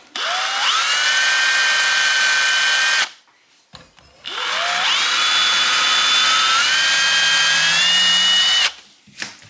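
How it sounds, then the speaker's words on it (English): Electric drill pre-drilling holes for a drawer monorail: two loud whirring bursts of about three and four seconds, each revving up in pitch, separated by a short pause. "So I'm going to get the drill out."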